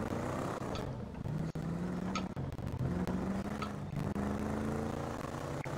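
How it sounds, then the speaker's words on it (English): A Dodge Durango engine in GTA 5 hums steadily, its pitch slowly rising and falling, with a few faint clicks over the drone and no talking. "The Dodge Durango sound hella nice."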